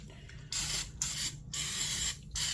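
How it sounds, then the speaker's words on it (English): Oil sprays into a John Wright cast iron muffin pan in four loud close bursts of hiss, each about half a second long, with short quiet gaps between them. "spray it down with good oil before you take and pour your batter"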